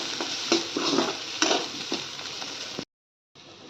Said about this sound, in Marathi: थोडंसं शेंगदाण्याचं कूट टाकते मी आणि छान परतून परतून घ्यायची आहे